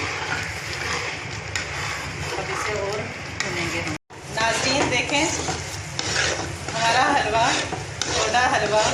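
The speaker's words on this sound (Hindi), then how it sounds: "بس اب ہم اسے تھوڑا سا اور بھونیں گے." Thick dhoda halwa is stirred and roasted in desi ghee, a spoon scraping and churning the heavy mixture against the pot in a continuous rhythmic stir with a soft sizzle, close and loud, briefly cutting out midway.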